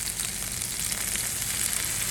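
Scallions hitting hot oil produce a steady, dense, close sizzle with fine crackling throughout, loud and unbroken.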